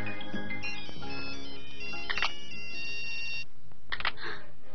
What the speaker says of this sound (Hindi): हाँ मेरा मोबाइल बज रहा है